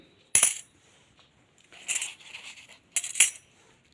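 A lot of old 1-rupee and 50-paise coins are handled and dropped, giving three bright metallic clinking bursts with quieter jingling between them, close and clear with no talk.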